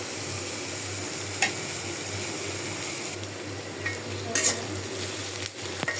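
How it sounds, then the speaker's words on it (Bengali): A pot of stem curry with salted hilsa and jackfruit seeds sizzles and simmers steadily, with a few sharp clinks and scrapes of stirring near the end and no talking. "একটু নোনা ইলিশ দিয়ে ডাটা তরকারিটা বসাই দিলাম"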